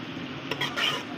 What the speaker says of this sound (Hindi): अब इसको हम 1 मिनट के लिए हल्का सा फ्राई करेंगे।